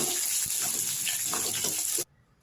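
Water is poured into a pan of peanuts, lentils, green chilli, curry leaves and sautéed onion for upma, a steady close gush lasting about two seconds before it stops abruptly.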